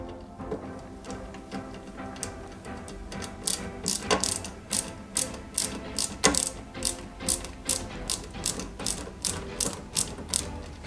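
Steady ratcheting clicks from a tool tightening screws on a Porsche 917KH scale model kit, a regular run of sharp close clicks that quickens and holds an even rhythm through the second half, with faint handling noises underneath.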